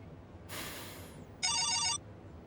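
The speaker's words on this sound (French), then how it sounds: "Tu n'as pas éteint ton portable, Ingrid?" A mobile phone rings in two short bursts, first a bright wash of tone, then a pulsing electronic ringtone, fairly loud and close, with no talking.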